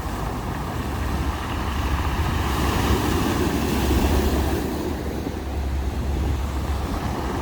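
Ocean surf crashes against a seafront wall at Las Americas, Tenerife, a steady, loud rush of breaking waves mixed with gusting wind noise on the microphone, continuous and close throughout.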